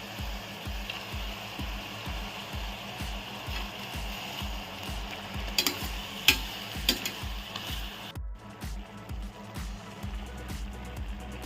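Country chicken sautés in a pan for a curry, its steady sizzle broken by rhythmic, repeated scraping stirs close up, with a few sharper clinks near the end.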